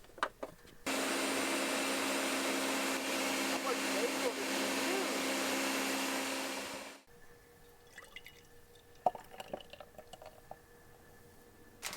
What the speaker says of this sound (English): we'll just keep blending